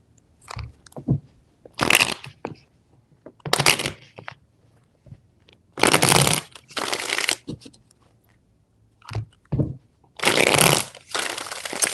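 A tarot deck is shuffled by hand in several crisp, close bursts of riffling and slapping cards, separated by short quiet pauses, with no talking.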